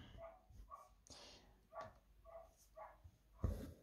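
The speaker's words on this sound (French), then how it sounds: "avec les chiens qui aboient" Several dogs bark in short, separate bursts, some yips and barks sounding a little distant, spread across a few seconds in an otherwise quiet indoor setting.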